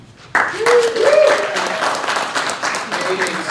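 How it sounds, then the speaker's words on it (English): An audience claps at a literary reading event, applause starting abruptly and continuing steadily, with a voice talking over the clapping near the start. "let's just give a huge round of applause to Lucia Berzola, Kendra Stewart, and Yutong"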